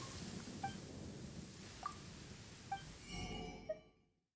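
Rain in a video game, a faint, steady hiss of rainfall with a few soft chiming clinks scattered over it, fading out at the end.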